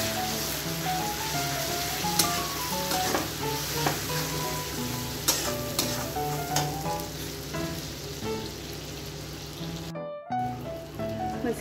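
A spiced vegetable curry sizzles steadily in a pan while being stirred, with a continuous frying hiss and scattered spoon scrapes and clinks. Background music plays throughout.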